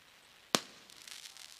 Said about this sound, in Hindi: यहाँ से वेलकम, स्वागत है आपके पटाखों की आतिशबाजी के साथ साथ